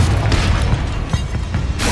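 A Confringo blasting spell goes off in Hogwarts Legacy on PS5, a loud, dense, rumbling explosive burst that fills the whole moment without pause.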